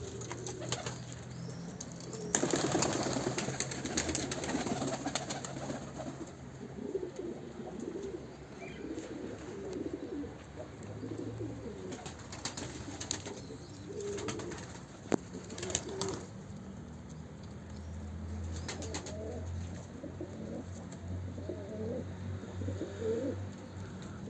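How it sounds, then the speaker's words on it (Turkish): Pigeons let out of their loft coo softly and intermittently at close range, with occasional bursts of wing flapping and scuffling against a quiet outdoor background. "Bazı kuşlar dışarı çıkmaya çıkmaya toprağı özlemişler."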